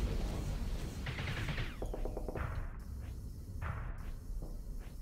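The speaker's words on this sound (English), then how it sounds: "Get a little closer and then launch missiles." Missile launches and rapid gunfire in the space combat game StarSector, a burst of sharp repeated shots and whooshing launches layered over a constant dense hum of engines and effects.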